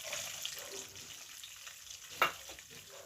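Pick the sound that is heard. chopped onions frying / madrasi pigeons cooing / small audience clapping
chopped onions frying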